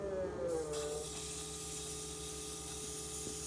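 CIS fuel injectors from a VW Mk1 Golf GTI spray during a flow test, making a steady broadband hiss over a low, constant pump hum that runs unbroken.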